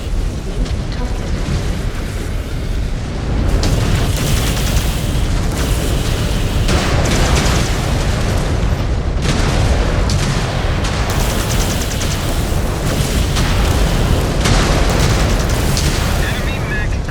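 A mech blowing apart in MechWarrior 5 brings a continuous, heavy roar of booms and blasts that stays loud and dense throughout, with voices calling out over the battle noise.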